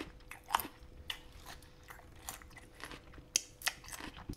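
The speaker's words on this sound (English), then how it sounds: "you're chewing with your mouth open" Someone chews loudly with an open mouth, making a steady run of wet, crunchy smacks and bites at close range, with no talk.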